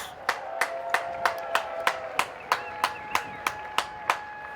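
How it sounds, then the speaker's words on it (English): A spectator at a polo match at The Villages Polo Club claps steadily close to the microphone, a dozen or so crisp, evenly spaced claps over a faint steady background. "a shot like that deserves a large round of applause"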